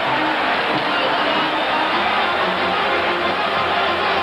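Arena crowd at a 1983 NHL hockey game between the Edmonton Oilers and Calgary Flames roars steadily after goalie Grant Fuhr covers the puck, a dense continuous wash of noise that stays loud throughout.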